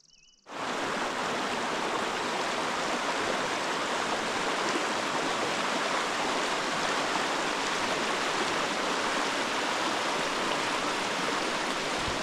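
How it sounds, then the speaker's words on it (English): Glen Creek flowing through Bob Marshall Wilderness backcountry, a steady, full rushing of water that starts abruptly and continues evenly throughout. "Yay, I made it to Glen Creek."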